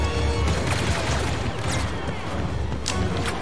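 Blaster fire and explosions from the Star Wars Battlefront II (2017) video game, a dense, continuous barrage of shots and booms with sharp bursts throughout, loud and busy with no pause.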